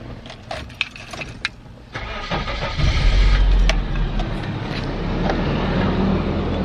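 A Nissan 240SX with a stock exhaust starting up: keys jangle and clicks, then the engine cranks and catches around two seconds in and settles into a steady, close idle.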